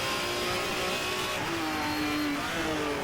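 A racing car engine in the GTR 2 racing game at Vancouver, held at full throttle with a sustained, loud drone that steps down in pitch briefly around a shift, then carries on steadily, with no voices.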